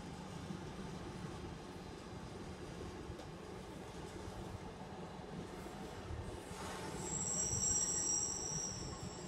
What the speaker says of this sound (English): Class 66 freight passing Longlands Junction.